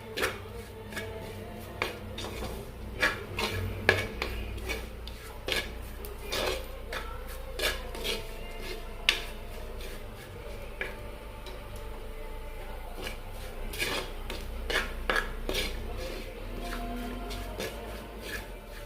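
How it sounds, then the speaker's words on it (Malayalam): A spoon stirs coriander and spice powder in a pan for a mackerel curry made with Malabar tamarind, giving soft repeated scrapes and light metallic clinks at close range, with no talking. "ഇനി നല്ലപോലെ ഇളക്കി കൊടുക്കുക."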